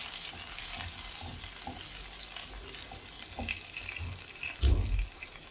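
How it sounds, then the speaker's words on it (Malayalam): Crushed shallots tipped into a hot pan and stirred, frying for a Kerala green chilli yogurt curry; a steady soft sizzle with scraping stirs and a louder burst near the end. "കൊച്ചുള്ളി ചതച്ച് വെച്ചിട്ടുണ്ട് അതും കൂടെ ചേർത്ത് ഇളക്കാം"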